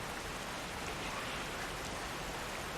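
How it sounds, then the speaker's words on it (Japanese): Rain falling steadily in an outdoor scene, a soft continuous hiss of drops with no breaks, fairly quiet and with no speech over it. "なんで天気なのに雨降んだよ。"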